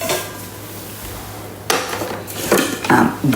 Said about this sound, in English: now we're going to put the lid back on